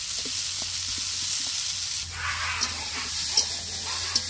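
Fried cauliflower added to a pan of cooked-down spiced mixture sizzles steadily, a broad close hiss with a few sharp pops and crackles late on, and no talk.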